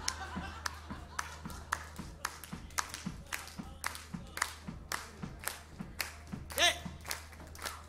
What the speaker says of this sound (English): It's the old-fashioned stomp clap.